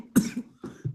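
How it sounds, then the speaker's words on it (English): A man coughs while smoking dry sift hash, two or three short, rough coughs close to the microphone, with a brief pause between them. "Pardon me for coughing while you talk"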